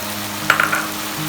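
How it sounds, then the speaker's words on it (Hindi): Meat browning in a pan for spicy karela gosht gives a short cluster of sharp sizzling crackles and stirring scrapes, close and moderately loud, with no talking. "माशाल्लाह जी, बहुत ज़बरदस्त गोश्त भुन रहा है"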